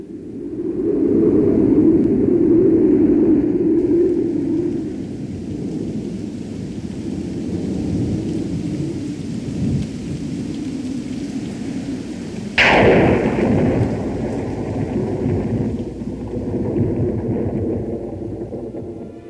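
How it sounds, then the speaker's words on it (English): Thunder from a summer storm in the Big Bend desert rolls loudly over a steady bed of rain, fading and swelling before a sharp nearby crack launches a second long, booming rumble. "Brewing over the mountain are the clouds of an interlude in the heat and drought,"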